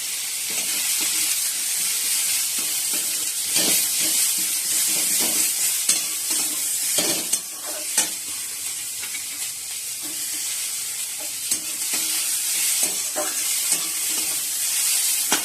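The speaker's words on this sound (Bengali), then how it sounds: "পেঁয়াজটা একটু লাল লাল করে ভেজে নেব।" Onions fry with a steady crackling sizzle in a pan, with repeated scraping knocks of a spoon stirring them throughout, fairly loud and close.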